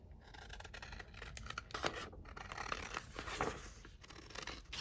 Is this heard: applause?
no